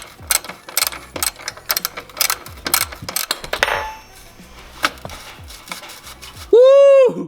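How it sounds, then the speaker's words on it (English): A wrench loosening a 12 mm bolt on a Tomei car exhaust makes a rapid run of sharp metallic ratcheting clicks close up, ending with a sudden loud tonal squeal-like burst; no talking. "I'm gonna loosen this bolt first"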